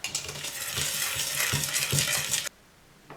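Sifted flour being mixed into a sugar batter for a rolled sponge cake, a dense rhythmic scraping and swishing of utensil against bowl for about two and a half seconds, then sudden near-silence with one faint tap.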